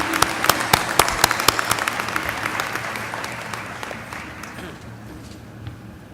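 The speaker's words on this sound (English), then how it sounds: "Let's give all of our award recipients a big round of applause" Audience applause at the 2018 Averett University spring commencement, a burst of distinct claps that thickens into steady clapping and then gradually fades out.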